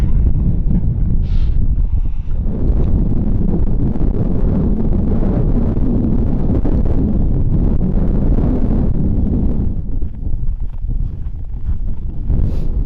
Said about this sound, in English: Kind of windy out here.